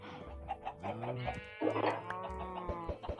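Livestock calls from a video game ring out in quick succession, fairly faint, with tonal bleating and lowing cries and short clucks layered over a soft background.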